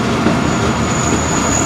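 A Pakistan Railways train rolls along the line in Gujarat, a steady loud rumble of wheels on track with a faint high whine above it.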